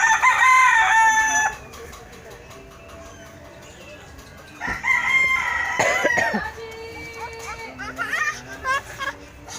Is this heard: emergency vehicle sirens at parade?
no